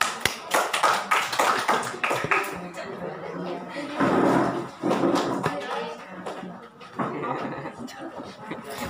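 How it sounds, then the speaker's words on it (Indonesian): A class at a spelling test gives scattered bursts of hand clapping, several rounds of applause mixed with tapping and a teacher's voice talking between them. "Bagi tepukan lulus."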